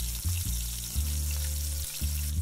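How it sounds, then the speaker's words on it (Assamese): A whole chicken fries in hot oil in a pan, giving a steady, close sizzle over a low, even hum, with no one talking. "চিকেনটো অলপ ৰঙা ৰঙা হোৱালৈকে মই এনেধৰণে লৰাই থাকিম মাজে মাজে"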